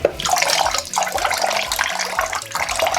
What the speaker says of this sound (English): Wash your chicken thoroughly.